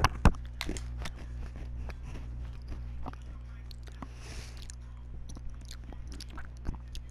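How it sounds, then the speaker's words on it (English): Crunching from someone eating a cookie: irregular, close bites and chews scattered over several seconds beneath a low hum, with no speech. "if you hear crunching, I am eating a um, cookie"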